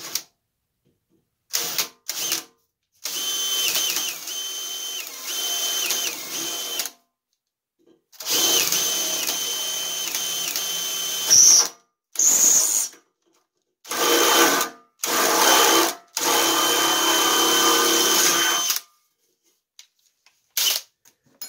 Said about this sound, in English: So I'm going to start off with this centering bit, which usually cuts a little cleaner.